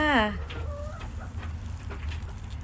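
A backyard chicken gives a sharp, close cluck at the start, followed by softer, scattered clucks and rustling at moderate volume.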